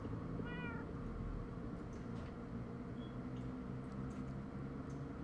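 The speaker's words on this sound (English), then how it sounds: "I just heard a cat." A cat meows in the Minecraft Story Mode video game, a short series of rising cries near the start over a steady bed of game ambience and background music.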